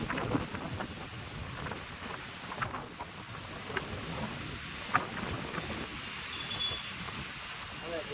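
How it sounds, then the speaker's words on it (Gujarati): Storm wind gusting hard through Surendranagar during a squall with rain, a continuous rough roar buffeting the microphone with occasional sharper thumps and rattles. "સુરેન્દ્રનગરની અંદર વાવાઝોડું, પવન, વરસાદ ચાલુ થઈ ગયો છે."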